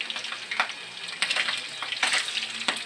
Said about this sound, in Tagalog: magluto ang isda nga prito-prito